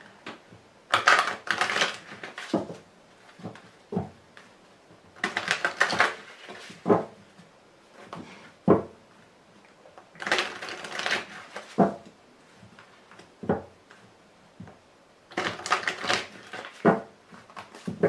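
Tarot cards handled and gathered to cover the deck, with bursts of crisp shuffling and tapping clatter recurring every few seconds, close and fairly loud with quiet gaps between.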